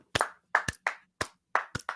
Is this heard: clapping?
yes